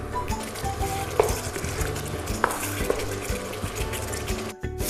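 Tender chicken pieces dry-roasted on a tawa over high heat, heard as a steady sizzle with repeated stirring and scraping of a metal spoon against the pan and occasional sharp clinks, close and continuous.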